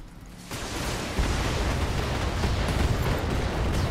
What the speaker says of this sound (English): Because that Gauss cannon is insane.